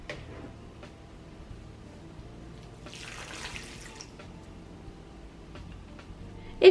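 Diluted yeast fertilizer solution, five glasses of water to one glass of yeast infusion, poured onto houseplants indoors; a brief, soft splash of liquid rises in the middle against a quiet room background, with no talking.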